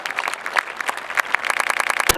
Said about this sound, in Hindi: जरा जोरदार ताली की गड़गड़ाहट के साथ डॉक्टर हरिओम पंवार जी का अभिनंदन करें।